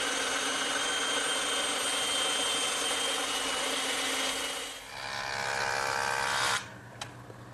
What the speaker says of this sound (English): I'll cut them over on the bandsaw